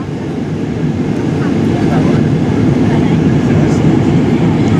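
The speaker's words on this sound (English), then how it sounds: "I was right the first time, that was the subway." A New York subway train on the 8th Avenue line passes as a loud, continuous low rumble and roar that swells slightly and holds steady, heard from the ground near an airport approach.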